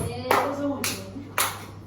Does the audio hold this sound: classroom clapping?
yes